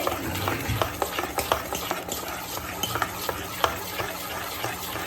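A spoon stirs four spoonfuls of oil into nylon khaman batter in a bowl, steady wet swishing with regular light taps against the side, close and continuous, no one speaking.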